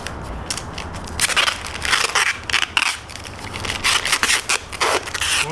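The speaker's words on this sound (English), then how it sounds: "get your piece of butcher paper" Stiff butcher paper being folded and wrapped around cuts of venison, crisp crinkling and rustling in irregular bursts, close and fairly loud with no talk.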